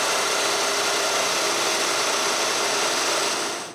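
A domino mortiser plunges into wood for the mortises of a closed bookcase frame, giving a loud, steady power-tool whine throughout before it cuts off at the end.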